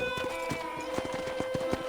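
A horse gallops in the Red Dead Redemption video game, with rapid rhythmic hoofbeats thudding steadily under a continuous tonal hum of game music or ambience, moderately close and with no talk over it.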